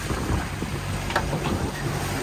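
A wave strikes a sailboat in open water with a brief splash burst amid constant wind buffeting on the microphone and rushing sea noise, and no one speaks over it.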